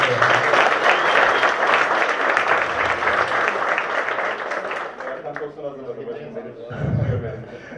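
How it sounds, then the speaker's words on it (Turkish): A crowd at a Turkish political candidacy announcement breaks into sustained applause with scattered laughter, loud and dense at first, then thinning and fading as a voice comes in near the end. "tüm bu çalışmalar için kendisini alkışlayalım bir kere"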